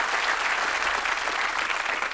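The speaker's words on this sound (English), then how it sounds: "Give them a nice round of applause" A studio audience on the Bullseye game show applauds the contestants, a brief, full, continuous burst of clapping with no talking.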